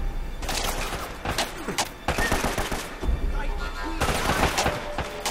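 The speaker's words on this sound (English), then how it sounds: "Now we've got gunfire from behind us." Rapid bursts of gunfire in the video game Uncharted: Drake's Fortune, with repeated volleys and impacts filling the stretch, close and loud, and a voice speaking now and then over the shooting.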